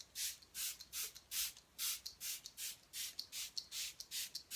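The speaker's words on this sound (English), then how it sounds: "For them, I spray the Sunrise New Dawn spray" Sunrise New Dawn spray is pumped from a spray bottle in a rapid, even rhythm of about a dozen short hissing bursts. The bursts are close and soft, with no talking.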